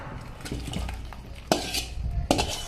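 Cooked sweet pumpkin is tipped and scraped out of a pan after the gas is switched off. A spoon clanks and scrapes against the metal in two sharper bursts over a soft, steady kitchen background.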